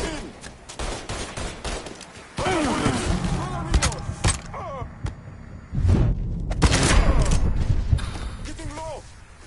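Rapid bursts of gunfire and booms from the video game Mafia 3 crackle through most of the stretch, mixed with shouted voices and game dialogue.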